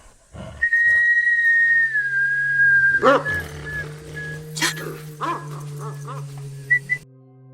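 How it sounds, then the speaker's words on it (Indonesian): A faint, eerie, wavering whistle drifts from a dark sugarcane field at night, held and gliding in pitch. A dog whimpers and barks over it, joined by rustling. "tiba-tiba terdengar suara siulan yang sangat samar dan sayup-sayup dari arah kegelapan ladang tebu"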